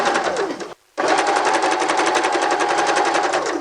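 Sewing machine stitching a seam in fabric just beside an earlier row of stitching, a loud, fast, steady mechanical chatter that stops briefly, then resumes and runs on evenly.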